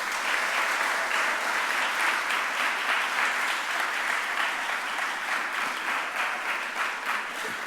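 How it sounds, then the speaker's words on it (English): An audience at a mayor's press conference gives Dr. Watlington a round of applause: dense, steady clapping from many hands that holds at an even, fairly loud level throughout, with no one speaking over it. "Can we now give a round of applause for Dr. Watlington?"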